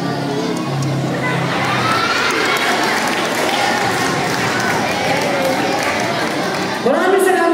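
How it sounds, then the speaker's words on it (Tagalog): An audience at a magician competition applauds and cheers throughout, with a dense, steady wash of crowd noise, shouting and voices mixed in. The sound stays loud and constant to the end. "Isang malakas palakpak naman po yan."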